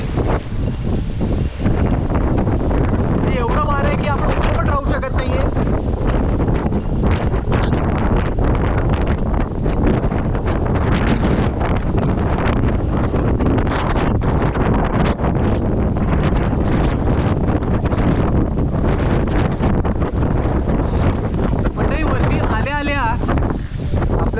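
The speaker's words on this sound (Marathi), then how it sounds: "पण अंदाज आला असेल की किती वारं इकडे" Strong, constant wind buffets the microphone on an exposed hilltop fort at Chavand near Naneghat, a loud roaring rush that runs unbroken throughout, with a few faint voices briefly audible beneath it.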